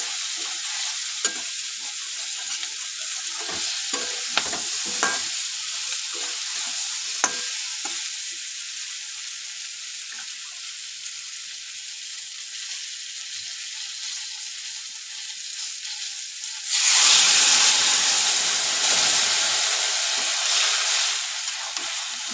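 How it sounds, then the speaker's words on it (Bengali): Hilsa fish curry stirred in a pan with a steady close sizzle and occasional scraping clicks, then water poured in near the end, bringing a sudden louder, broader hissing surge that fades slowly. "একটু নাড়াচাড়া করে পরিমাণ মতো জল দিয়ে দেবো।"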